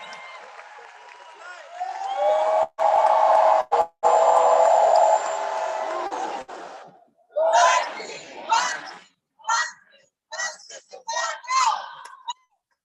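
A large live crowd yells and cheers in a loud sustained burst, then breaks into scattered shouts and whoops with short gaps between them. A voice talks through parts of it.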